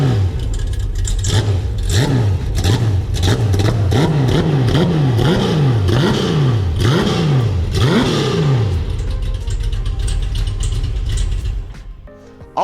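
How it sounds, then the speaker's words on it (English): A GuntherWerks car engine revs hard with its exhaust valve open, giving a loud, vibrant exhaust note. About a dozen rapid throttle blips rise and fall in quick succession, then the engine settles and fades out near the end. "that opens up the exhaust valve on the exhaust, and it's much louder, much vibrant sound in the exhaust system"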